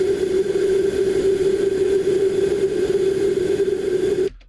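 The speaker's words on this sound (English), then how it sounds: "It's a lot of just the kettle boiling" A kettle at a steady boil gives a constant, dense hiss and rumble with a strong steady tone. It is close and even throughout, then stops abruptly near the end.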